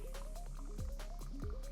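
Water poured into a NextLevel Pulsar coffee brewer gives soft close bubbling drips and gurgles, with rising plops repeating in a quick rhythm, faint and alone.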